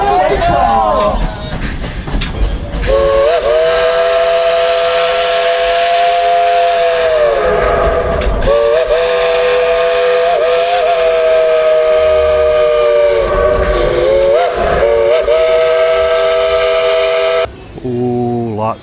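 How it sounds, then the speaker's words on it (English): A steam train whistle blows loud and long in sustained blasts at Dollywood during a Christmas event, with brief breaks between them, over hissing steam and rumbling rail noise. "Blow the whistle."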